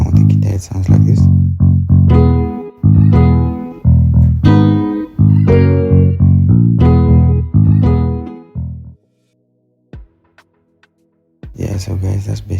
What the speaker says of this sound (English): And with the guitar, it sounds like this.